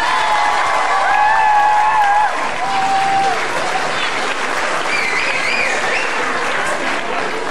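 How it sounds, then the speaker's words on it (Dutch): An audience at a scouting playback show gives a long, loud, continuous round of applause for the scouts, dense clapping mixed with crowd noise and several shrill whistles rising above it. "Dus een heel groot applaus voor de verkenners!"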